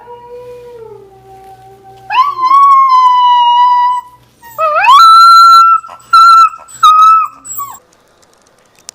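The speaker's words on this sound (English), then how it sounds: "So here's a howling clip." Wolves howling up close: a long, low, falling howl is followed by loud, rising howls that hold steady tones, with a second wolf howling faintly in the background.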